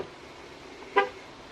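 Short horn chirp from a 2019 Ram Laramie pickup with sport package as its doors lock via the door button: a single brief toot, fairly close, standing out over quiet background.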